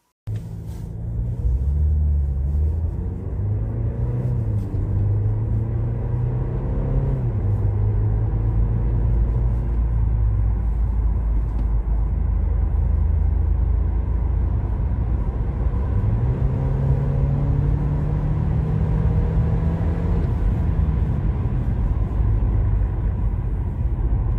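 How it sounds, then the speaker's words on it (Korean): An Audi Q5 45 TFSI accelerates with a steady low engine rumble and road noise from inside the cabin. The tone rises through the gears, with shifts heard as dips in pitch, and the sound stays smooth and subdued throughout. "이 Q5 가속 제 설명 없이 한번 잠깐 느껴보시죠"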